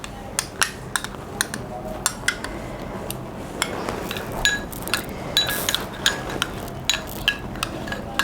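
Pear pulp stirred in a bowl for a homemade face mask: a spoon clinks and taps repeatedly against the dish in an uneven rhythm, close and fairly crisp.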